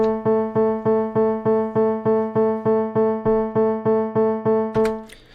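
A single low synth note, A2, repeats in even straight eighth-note pulses, about a dozen identical hits in steady rhythm, then a short noise at the end.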